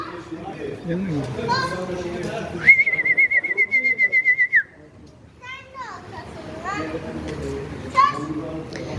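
Birds chirp and whistle briefly amid children chattering and playing nearby, with a long steady trilling whistle in the middle.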